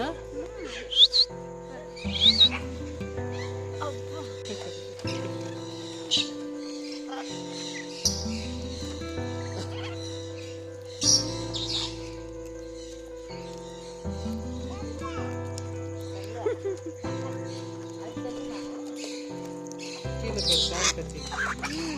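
Exotic birds calling at a petting farm in the Yelagiri Hills, brief sharp chirps and squawks scattered over a steady looping melody, with people talking nearby.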